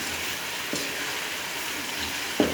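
Ginger garlic paste fries in a pan with a steady, close sizzle and crackle, broken by two brief stirring knocks for an aloo palak dish.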